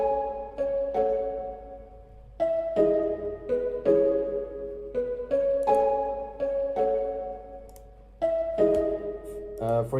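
A mallet one-shot sample played as chords: soft, rounded tuned mallet notes struck in a loose rhythmic pattern, each chord ringing briefly before the next, clear and alone.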